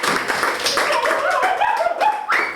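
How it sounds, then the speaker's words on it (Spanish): A congregation claps together during a church worship service, a sustained spread of hand claps heard alongside a tonal voice or music line running beneath it. "Denle un aplauso a nuestro Señor"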